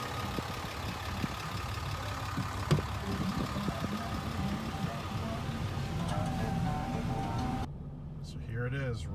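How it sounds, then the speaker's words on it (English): A 2018 Ram 2500 Sport Appearance Package pickup with a Cummins diesel engine runs steadily in the background while a voice talks over it, the low rumble continuous through the clip and dropping sharply near the end. "So here it is, Ram 2500. Cummins diesel."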